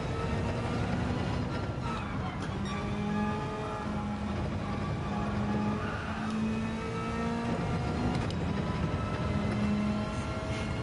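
A car in Gran Turismo 7 on PSVR2 accelerating hard, engine pitch climbing repeatedly through gear changes in a steady near roar across the whole stretch with no talk.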